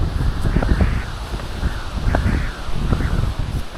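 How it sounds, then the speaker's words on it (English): Strong cold wind gusts steadily across a winter mountain trail on North Crocker Mountain at around 2,500 feet, roaring and buffeting the microphone with low rumble throughout, rising and easing in waves. "that wind coupled with it, that'll freeze you out pretty fast"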